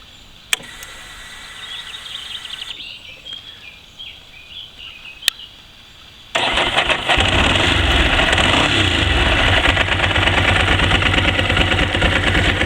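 A motorcycle with a dry clutch fires up after a few faint clicks and then settles into a loud, steady idle, rattling close by with no talk over it.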